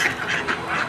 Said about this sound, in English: 8 or 9 ducks.